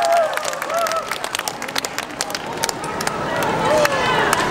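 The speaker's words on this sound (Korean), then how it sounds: "박수 한번 주세요" An outdoor audience at a trot concert during a Gyeongnam specialty products expo claps steadily, with scattered whoops and voices mixed through the sustained applause.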